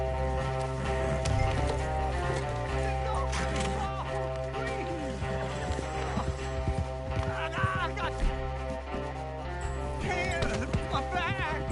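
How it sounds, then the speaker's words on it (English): A horse gallops in Red Dead Redemption 2, its steady clip-clop of hooves running under a dense bed of game music and ambience, with characters talking over it. "Get that horse under control, John."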